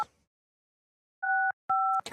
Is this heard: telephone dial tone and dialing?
yes